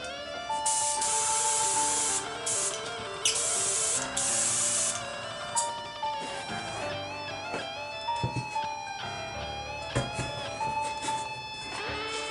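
An airbrush sprays camouflage paint onto a Stormsword model in steady hissing bursts that start and stop, heard over quiet background music.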